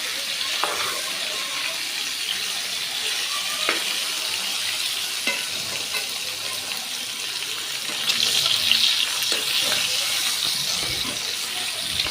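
Fish frying in a pan gives a dense, steady sizzling hiss throughout, with occasional light clicks and a slightly louder stretch toward the end.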